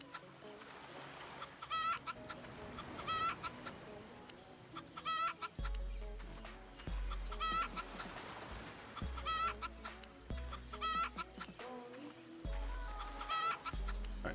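Chickens on a farm in a video game cluck and squawk repeatedly over a busy, layered game soundscape with low thumps, the bird calls clear and fairly close throughout.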